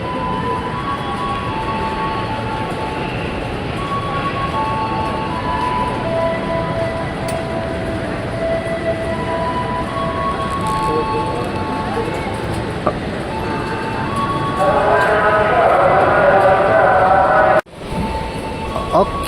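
A KRL commuter train pulling away from Cikarang station, a steady rumble and rolling hum with faint tonal whine and platform murmur, growing louder near the end before an abrupt cut.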